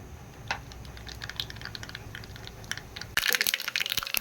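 Mustard seeds and lentils crackle in hot sesame oil for a Tamil chutney tempering, with scattered light pops that suddenly burst into a dense, louder sizzling crackle as the ingredients hit the oil.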